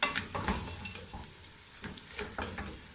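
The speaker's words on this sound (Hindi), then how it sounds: "हम पाए अच्छी तरह भून लेंगे" Goat trotters fry and get stirred in a pan with spices, giving a soft steady sizzle broken by repeated scraping stirs and light clinks of the utensil, with no talking.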